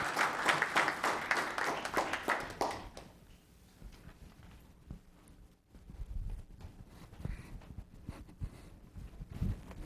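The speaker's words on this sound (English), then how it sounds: "One more round of applause for Ms. Goss." Audience applause for a presenter at a town council meeting, moderately loud clapping for a couple of seconds that quickly fades into quiet room noise with faint taps and movement.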